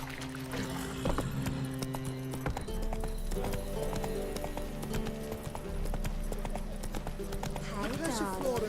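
Hooves of the horse Roach galloping in The Witcher 3 make a steady, rapid clip-clop beneath game music and ambient sound, with a spoken voice also present.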